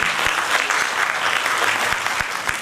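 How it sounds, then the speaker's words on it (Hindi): Audience applauding the actors after a stage drama, a short burst of dense, lively clapping from a crowd, loud and continuous throughout with a few stronger individual claps. "एक बार जोरदार तालियां दोबारा हो जाए सभी कलाकारों के लिए"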